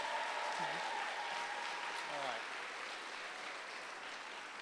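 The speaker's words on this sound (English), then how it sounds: "So I'd like to give a big round of applause for 5803 and Seattle Christian School for putting on this event." A crowd at a FIRST Robotics alliance selection event applauds Team 5803 and Seattle Christian School, a fairly faint, even wash of clapping with a few brief voices above it.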